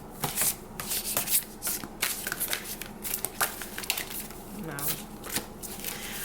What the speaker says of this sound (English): These are hard to shuffle, but I guess I'm gonna do it.